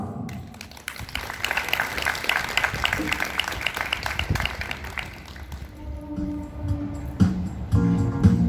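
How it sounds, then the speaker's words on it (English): An audience claps for a Christmas choir, the Nightingales of Holy Cross, at a Christmas and New Year celebration. The dense applause lasts several seconds, then thins out as music begins. "a big round of applause for the Nightingales of Holy Cross"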